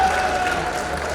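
A crowd at a public event for Hukumchand Mill workers applauding a young MLA, a brief steady burst of clapping from a distance, moderately loud with no talk over it.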